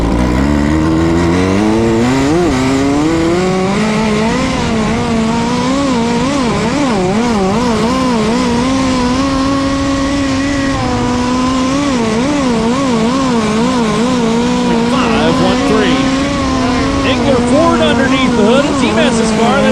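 Sprint race car number 7X on its opening lap at Gas City Speedway, a loud engine howling and rising and falling as the car accelerates through the corners, close and continuous.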